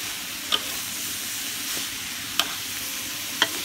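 Preserved radish stir-fried with pork and egg in a pan gives a constant close sizzle, with three sharp metallic spatula clacks spaced over a few seconds and no voices.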